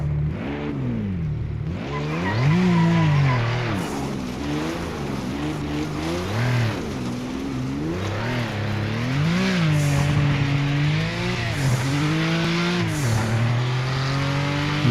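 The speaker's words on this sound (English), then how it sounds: "Love the noise of that turbo." Turbo race car engine in the video game Project Motor Racing, loud and continuous, repeatedly revving up and dropping through gear changes, with turbo whooshes and dumps between pulls.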